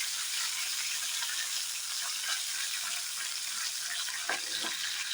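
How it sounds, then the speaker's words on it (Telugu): Steady hissing sizzle of tempering spices frying in hot oil in a pan, close by, with a couple of faint clicks near the end. "వేసి దోరగా వేయించుకోవాలి"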